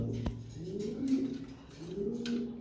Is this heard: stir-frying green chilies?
no